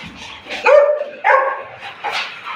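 A dog gives a few loud, close barks and yips, spaced out in short bursts, with no talking.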